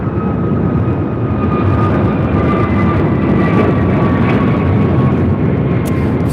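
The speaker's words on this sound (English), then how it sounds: "Another Japan Airlines Dreamliner, short funnel for 24 left" A Japan Airlines Boeing 787 Dreamliner jet at Los Angeles International Airport gives off a loud, continuous engine roar with a faint whine, steady throughout and close by.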